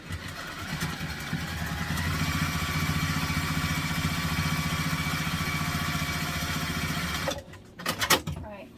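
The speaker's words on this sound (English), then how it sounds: "Just top stitching the top for now." Sewing machine running steadily while top stitching a backpack, a continuous close mechanical whir for about seven seconds that stops abruptly, followed by a few brief handling clicks.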